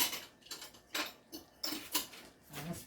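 Metal spoon clinking and rattling against other cutlery while being grabbed from a kitchen utensil holder during chili cooking, a few quiet scattered clicks and jangles, close by.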